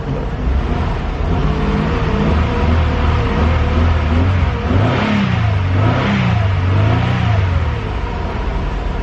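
A car engine runs loud and close, with a steady rumble that rises into a couple of throttle revs midway before settling back to idle, with no talk over it.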